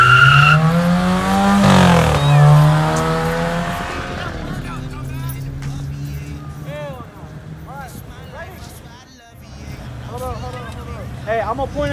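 A church van drifts at a Dayton street takeover car meet, with its engine revving hard and tires squealing loudly while a crowd's voices and shouting carry over the noise.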